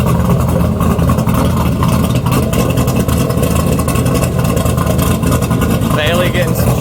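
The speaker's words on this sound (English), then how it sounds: "listen to that idle, dude. He's got it galloping." A Mazda Miata with a swapped-in LS V8 sits at a loud, lumpy galloping idle, steady and close, while people talk over it.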